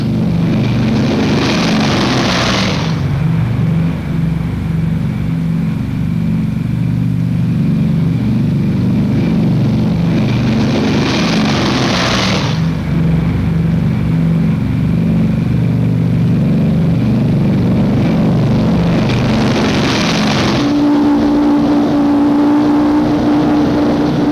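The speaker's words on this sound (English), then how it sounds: "B-29 takeoffs are a tough sweat." Boeing B-29 bombers take off one after another in 1945, a loud sustained engine roar with periodic swelling surges as each heavy plane passes.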